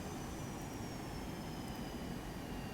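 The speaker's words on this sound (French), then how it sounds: "Voilà, l'avion redescend." Boeing 737-200 airliner jet engines on descent drone as a constant broad roar with a faint high whine, heard steadily from inside the aircraft.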